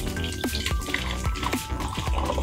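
Liquid poured slowly through a funnel into a water bottle, with a run of small gurgles and drips falling at an uneven rhythm, heard close up with no voices.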